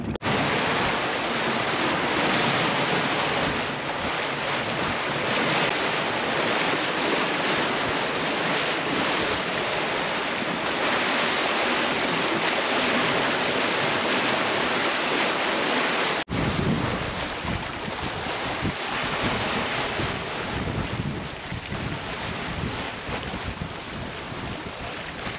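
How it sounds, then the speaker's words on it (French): Wind and small, tightly packed waves rush past a sailboat at sea off Antigua, a loud, continuous roar of wind noise and water with no talk. "Il y a des toutes petites vagues très serrées, mais c'est juste le vent qui lève"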